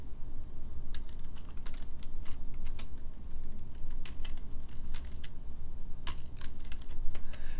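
Keys clatter on a computer keyboard as a password is typed, a quick irregular run of light clicks close up with no voices over it.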